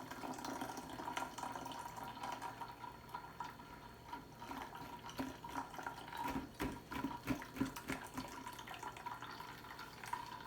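Cucumber water mix poured through a strainer into a jar, giving a steady, quiet liquid trickle and splashing with faint dripping, continuous and close, with no talk.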